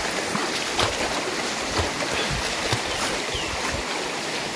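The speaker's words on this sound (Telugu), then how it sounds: "ఇట్లా పారుతుందండి వాగు కనిపిస్తుంది కదా" A rain-swollen village stream flows steadily, a continuous broadband rush of water close by with no talk over it.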